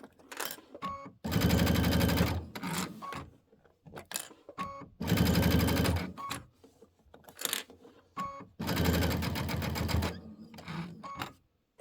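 A sewing machine stitches binding onto a Christmas quilt in three loud, steady runs of fast mechanical whirring, separated by short pauses filled with light clicks and handling noises.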